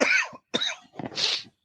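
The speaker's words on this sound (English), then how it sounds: "sorry, I need to cough again." A person coughs three times in quick succession, close and loud, with brief pauses between the harsh bursts.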